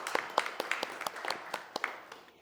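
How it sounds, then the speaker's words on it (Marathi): A small audience at a Marathi literary gathering claps sparsely and unevenly, with distinct separate claps at moderate, fairly faint loudness. "यासाठी खरंच आपण जोरदार टाळ्या वाजवूयात"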